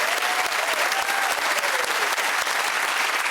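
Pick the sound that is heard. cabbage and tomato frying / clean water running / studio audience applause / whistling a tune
studio audience applause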